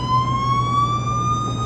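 An emergency vehicle siren in a movie scene sounds loud and steady, a single sustained rising wail held throughout with a low rumble beneath it.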